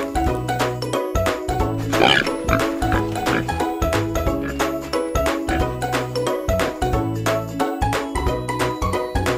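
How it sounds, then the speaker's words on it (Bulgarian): A farm pig grunts and oinks in a repeated pattern over light, rhythmic background music. "Прасе."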